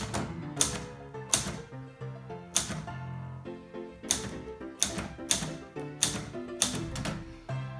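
A manual typewriter being typed on, roughly a dozen sharp key strikes in an uneven rhythm with a metallic ring after each, close and fairly quiet with no talking.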